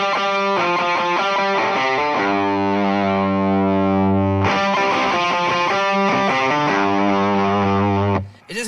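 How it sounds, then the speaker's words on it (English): Electric guitar played through heavy gain distortion, sustained fuzzy chords ringing out loud and thick, with a brief cutoff at the end and no talking. "It's a lot of distortion happening."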